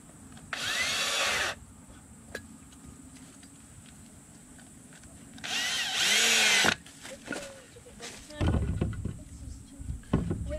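A power drill drives screws into wood in two loud whirring bursts, with a thump and rattle at the end and people talking quietly between runs.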